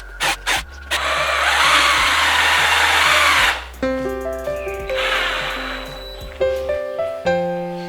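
A power drill whirs loudly in a long sustained burst, boring into pallet wood, then several short bursts follow as the motor revs up and down, close at hand.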